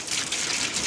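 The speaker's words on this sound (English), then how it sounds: "Go over to the sink and run cold water over it." Cold tap water gushes over onion in a strainer at a kitchen sink, a steady, close splashing rush with no pauses.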